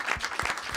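Brief audience applause in a hall during a French talk show appearance, a short burst of many hands clapping, fairly faint and heard alone.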